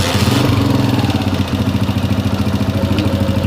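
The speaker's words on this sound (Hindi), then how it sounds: "लगी बाइक हमारी स्टार्ट हो गई है।" A CG125 motorcycle engine, kick-started with soft tappets and a low-compression fault, catches and settles into a steady, close, loud chugging idle with a regular pulsing rhythm, running on its own with no talk.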